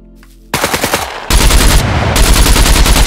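Loud bursts of rapid automatic gunfire in the game SCUM rattle in quick succession, growing denser and heavier, with a brief quieter lead-in before the shooting starts.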